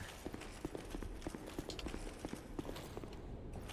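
Horse hooves clip-clopping in Dark Souls II, a steady run of sharp, evenly spaced hoof strikes over a dense game backdrop of ambience and music.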